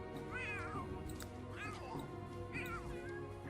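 Cats meow in The Sims 3 video game, three drawn-out rising and falling calls at a steady pace, moderately close, over a soft game background.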